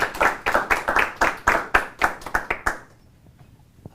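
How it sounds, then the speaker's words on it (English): A small audience gives a speaker a short round of applause at a lecture series, a sparse rhythmic clapping with distinct individual claps that quickly tapers off into quiet room tone. "let's give Ariana another round of applause"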